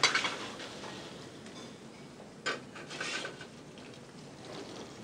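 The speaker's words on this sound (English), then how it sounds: "I like to sear it in olive oil, just enough to coat the bottom of the pan" Lamb loin laid into a pan of hot olive oil gives a steady, soft searing sizzle, with a faint clink of cookware near the start and another brief spurt of crackle partway through.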